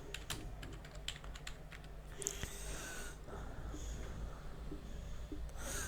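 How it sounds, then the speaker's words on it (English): Someone types on a computer keyboard in quick, uneven bursts of key clicks, up close and fairly quiet, followed by breathy sniffing and rustling. "my typing is off today"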